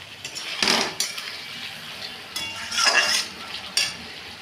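Water is poured into a pan of frying potatoes for a small tilapia fish dish. The oil bursts into two loud sizzling surges over a softer background crackle, close and with no talking.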